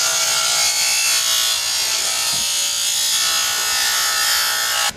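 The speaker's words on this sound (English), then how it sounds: "I'm just going to use my grinding stone, grind it all down" A grinding stone grinds down a part for a kayak trolling motor dead man switch, giving a steady, loud, high-pitched abrasive whine that holds for about five seconds before cutting off abruptly at the end.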